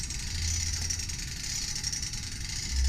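An S70 starter motor free-turns on a Cummins NT855 test engine, a steady mid-pitched mechanical whir and hum with constant vibration, rising slightly in level at the end.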